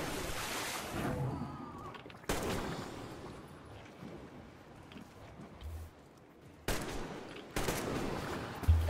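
Gunfire in the shooter Metro Exodus: a few sharp shots break through a low ambient background, with separate loud reports spaced several seconds apart.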